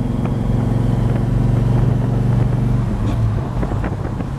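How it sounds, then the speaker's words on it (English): A 1965 Plymouth Belvedere convertible with a 440 and four-speed cruises on the freeway, a steady loud low engine drone mixed with wind buffeting, with no talk. "We're going for a drive in a 65 Plymouth Belvedere convertible. 444 speed, builds tons of power."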